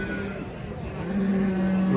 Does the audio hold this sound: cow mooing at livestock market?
yes